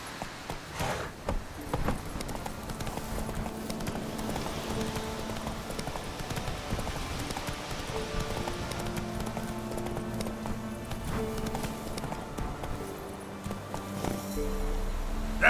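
Roach, Geralt's horse in The Witcher 3, gallops with a rhythmic drumming of hooves amid rain and ambient game music, steady and moderately loud throughout.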